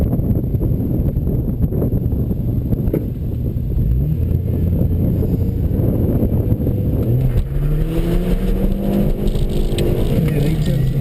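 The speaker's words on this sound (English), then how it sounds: "at the line, Jeff Slater up for his round 2 run in that RT car" Drag race cars at the line, a loud low engine drone with wind buffeting and a rising rev near the end, while an announcer talks over it.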